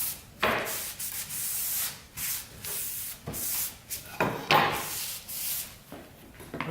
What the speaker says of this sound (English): Just give that a wipe down.